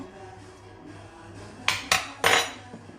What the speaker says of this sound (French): On va bien mélanger le sel dans l'eau.